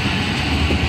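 A train coach arriving at Badami Bagh railway station in Lahore, a loud, steady rumble of rolling wheels and heavy machinery filling the whole moment without a break.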